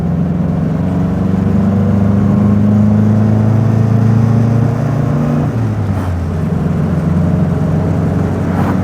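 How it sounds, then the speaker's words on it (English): Transmission whine and engine drone from an MG Magnette ZB fifties sport saloon while driving, a loud steady hum that holds its pitch, then drops away as the gear changes, with no voices over it. "Lovely transmission noise"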